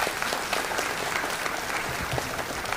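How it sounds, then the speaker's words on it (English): A large convocation audience at a management institute gives a steady, sustained round of applause, dense and even throughout with no speech over it. "give them a big round of applause"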